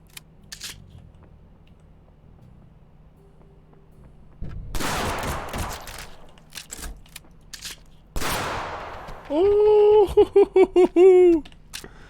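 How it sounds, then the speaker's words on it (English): Two short, loud bursts of gunfire from the video game Blacktrace break a quiet background, followed by a string of sharp, pulsing electronic game tones. "When all else fails, shoot him in the back."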